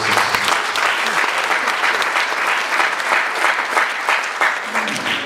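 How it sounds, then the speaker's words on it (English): Audience applause at a creative arts week panel event in Embu, dense, loud clapping from a crowd that holds steady throughout. "Let's give a round of applause."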